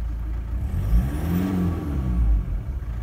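A diesel engine idles with a faint knocking rattle, a steady low rumble and a mechanical clatter that stays even and close for the whole stretch.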